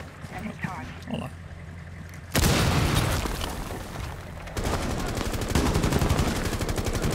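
Rapid Rainbow Six Siege gunfire on PC bursts loud and close, a sustained automatic rattle following a brief stretch of quieter sounds.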